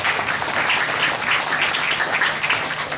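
An audience bursts into steady, dense applause, loud and continuous throughout with no break, at a religious lecture on the Prophet Muhammad's noble character.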